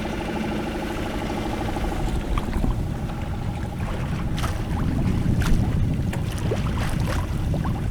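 Low steady engine drone of a sailboat motoring across a Finnish lake, continuous and moderately loud beneath wind and water noise, with no talk.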